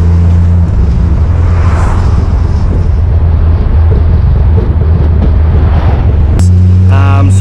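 Turbocharged MK4 Toyota Supra JZA80 with a 2JZ-GTE engine fitted with a Pulsar 1050 T51R turbo, heard from inside as it drives: a loud, steady engine drone with road and wind rumble, then a brief rising whine near the end.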